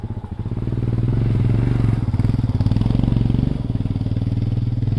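A Royal Enfield Scram 411 motorcycle idles and revs nearby, its single-cylinder engine thumping in a fast, loud, steady pulse that swells and eases slightly.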